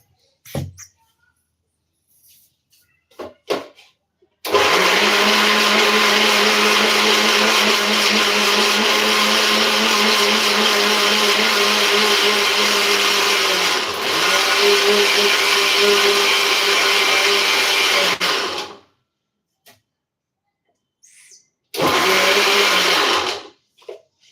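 A kitchen mixer grinder whirs loudly and steadily for about fourteen seconds as it blends fresh herbs into a thick green paste for homemade herbal hair oil, then stops, with a second short burst of grinding near the end.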